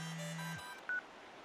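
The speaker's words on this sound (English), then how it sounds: "That's a dope ringtone." An electronic phone ringtone from the video game Paper Mario: The Thousand-Year Door: a steady low tone holds for about half a second, then a single short, bright beep follows, with no talking.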